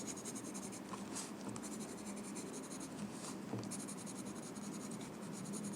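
Pencil dragged hard across paper laying down thick, heavy graphite for a drawing, a soft continuous scratchy scraping with short strokes, quiet and close.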